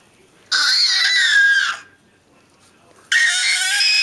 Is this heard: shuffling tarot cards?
no